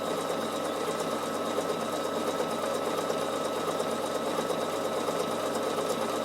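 A Bernina sewing machine runs a double overlock stitch with blue thread, giving a fast, continuous mechanical whir and rapid ticking at a steady pace, close and moderately quiet, with no talk.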